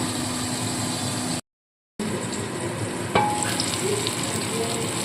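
Tomato with salt cooking under a lid in a pan, giving a steady, close sizzle and low bubbling hiss, briefly cut to silence, then resuming with a faint clink.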